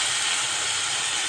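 Pumpkin pieces go into a pan of fried spice paste made with chili and coriander powder, giving a steady, bright hiss and sizzle throughout with no talking.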